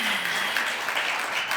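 An audience applauds at a community awards ceremony, a brief, loud, even patter of many hands.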